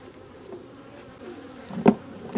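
Honeybees buzz at an apiary with a steady, close, low hum, swelling into a brief louder burst near the end.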